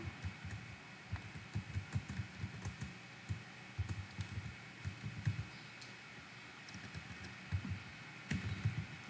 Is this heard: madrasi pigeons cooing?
no